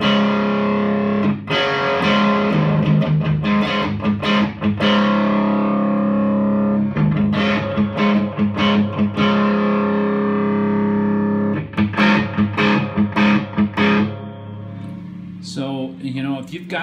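An electric guitar runs through a Fender Bassbreaker 45 combo amp on a high-gain setting with a reverb pedal in front, sounding heavily distorted. Sustained chords ring out with washed-out reverb tails, broken by bursts of choppy strummed hits.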